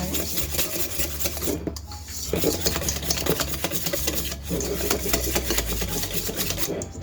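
Butter and vanilla being whisked together in a bowl for snickerdoodle dough, a continuous close rasping, rubbing stir with brief pauses and no talk.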